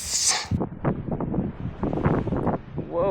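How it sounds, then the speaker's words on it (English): Strong gusty wind buffets the microphone beside an alpine lake, roaring in bursts over the whole stretch, with a person talking briefly under the noise. "Whoa, it's windy."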